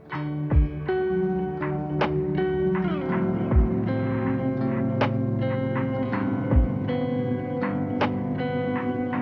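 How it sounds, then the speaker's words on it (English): Notes played through a reverb pedal on its crush setting with octave-down pitch swell into thick, lowered, slightly distorted tails, with several sharp attacks punctuating a sustained, droning wash, loud and up close. "I use octave down quite a bit"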